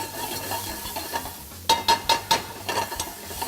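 Oil goes into a hot, dry pan with ginger, garlic and onions, giving a soft sizzle, then a quick run of scraping stirs with a utensil against the pan.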